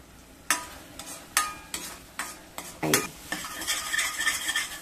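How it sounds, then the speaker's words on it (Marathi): Ground masala paste for shahi matar paneer being sautéed in hot oil, with a spoon repeatedly scraping and stirring the pan in a steady rhythm over a soft, continuous sizzle, close and moderately loud. "आपण छानसं याला तेल सुटेपर्यंत परतून घेऊया"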